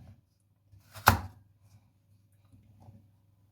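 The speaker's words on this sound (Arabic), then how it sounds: "اهو يا جماعه قطعت الخضار" A single sharp knife chop through vegetables being cut for Egyptian mixed pickles (torshi), close and crisp against an otherwise quiet kitchen, with a faint clatter after it.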